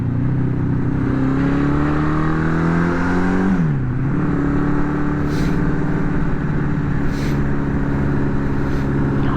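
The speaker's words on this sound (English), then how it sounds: "right off the bat, it definitely pulls decently. Right there, I'm hanging up on RPMs again," A Honda CB750 motorcycle, freshly fitted with swapped carburetors, pulls under way while being ridden, its engine holding a steady loud drone, dipping briefly as the revs change and then building again, close and continuous with no voices.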